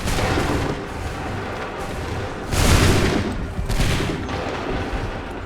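A musket volley in Assassin's Creed 3 on PS5 cracks out as a rolling fusillade, with two sharp louder bursts of massed gunfire booming over an ongoing din of distant battle.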